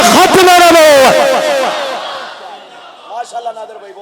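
A large crowd roars a chanted response to the Naara-e-Takbeer call at a poetry gathering, a loud unified shout that fades after about two seconds, followed by a few quieter voices.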